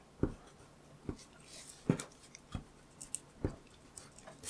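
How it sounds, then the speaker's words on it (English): Pencil drawing shapes being rubbed out with an eraser on paper, heard as quiet, close scrubbing strokes in short bursts roughly every half second to second, with no voices. "let's take our erasers and erase some of these foundational shapes right in here"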